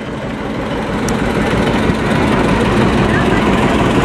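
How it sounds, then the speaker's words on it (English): John Deere LP (liquid propane) tractor engine running at a cotton gin festival, a steady, loud, low rumbling drone with no gaps, heard close throughout. "It's a LP tractor."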